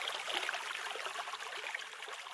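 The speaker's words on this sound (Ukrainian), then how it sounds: "Так, правильно, це весняний струмочок." A spring brook trickles steadily as a soft, continuous rush of water heard alone.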